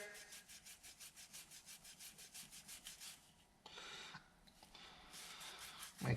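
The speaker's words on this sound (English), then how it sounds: "The outside, I'm just gonna clean it with my Scotch Brite here." An engine piston is scrubbed with a Scotch-Brite pad in quick rhythmic back-and-forth rubbing strokes, followed by a few slower, broader scrapes, close up and quiet.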